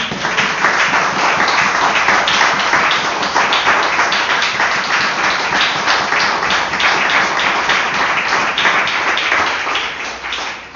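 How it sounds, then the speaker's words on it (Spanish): A church congregation gives a loud, sustained round of applause, a dense steady roar of many hands clapping that continues unbroken for about ten seconds before easing slightly at the end. "¿Será que le damos un aplauso al Rey?"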